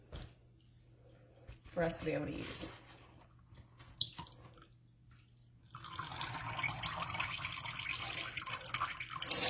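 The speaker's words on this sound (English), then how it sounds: "And I'm going to pour this into a jar" Homemade vegan oat milk is poured into a jar: a steady liquid pour and splashing runs near and continuous through the latter half, with brief drips earlier and a person talking over the start.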